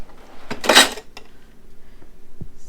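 Dishes clatter and knock as they are stacked and slid into a drawer inside an RV kitchen, with one loud jangling burst followed by a few softer clicks and thuds.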